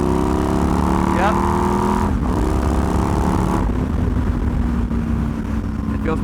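A Yamaha MT-01 1700cc V-twin motorcycle pulls hard after a downshift, its engine tone rising steadily under heavy wind rush, loud and close, with a brief shift break midway.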